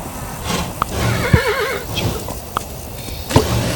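A horse in the video game Kingdom whinnies in a wavering call, with snorts and sharp hoof-like clicks around it, loud and close.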